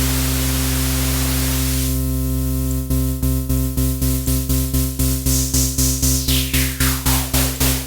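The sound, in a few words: synthesizer noise through high-pass filter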